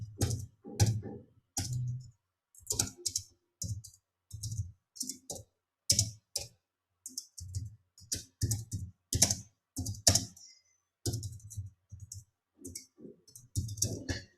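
Rapid bursts of keystrokes on a computer keyboard while typing a query into a Jarvis chatbot, clicking in uneven clusters separated by short pauses, close and fairly quiet, with no talking.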